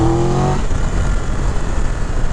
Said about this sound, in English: the engine and the quick shifter are excellent. I mean, do you hear that noise?